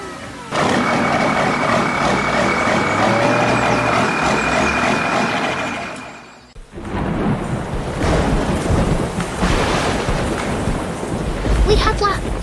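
Rolling thunder in a storm from a 3D animation of heavy equipment in a city, with a long low rumble that fades out and then a fresh crash of noisy, churning thunder, under a speaking voice.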